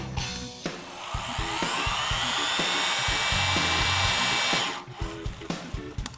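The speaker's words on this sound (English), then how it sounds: "we're going to set our gun to 450 foot-pounds" A torque gun set to 450 foot-pounds tightens a bolt in one sustained, loud, rising whir of about four seconds that cuts off automatically, with clunks and handling noise before and after.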